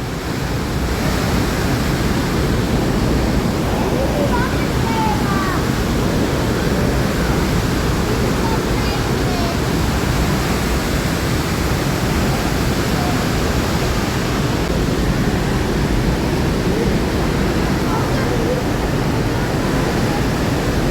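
Trümmelbach Falls in Lauterbrunnen roars as a dense, constant rush of falling water, loud and unbroken, with no voices.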